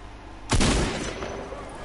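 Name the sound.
gunfire in the video game Fortnite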